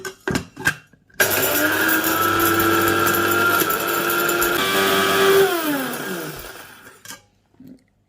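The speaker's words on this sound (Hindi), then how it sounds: "इनका मैं मसाला पीस लूंगी" An electric grinder pulverises whole spices—mace, nutmeg, black and green cardamom—for a chicken qorma, a loud steady whirring roar running about four seconds and winding down, with a few short clicks before and after and no talk.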